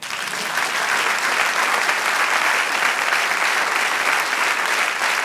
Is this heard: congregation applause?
yes